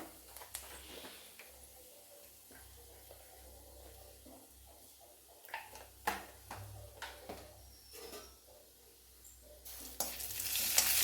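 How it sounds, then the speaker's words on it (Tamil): Black pepper, fennel and cumin seeds frying in hot oil for a roasted-masala brinjal kuzhambu, a steady soft sizzle with scattered crackles and pops that grow louder toward the end. "எண்ணெய் காய்ஞ்சி வர நேரத்தில் கொஞ்சம் மிளகு கொஞ்சம் சோம்பு பெருஞ்சீரகம் கொஞ்சம் சீரகம் போட்டுக்கோங்க"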